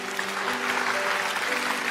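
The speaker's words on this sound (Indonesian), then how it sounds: "kasih tepuk tangan untuk Tuhan." A church congregation claps during a worship service, a dense steady patter of many hands close by, with a faint sustained tone from an organ or keyboard beneath.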